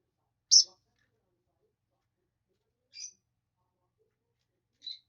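A pet bird gives three short, high chirps spaced a couple of seconds apart, the first loudest and the others softer, with quiet in between and no talking.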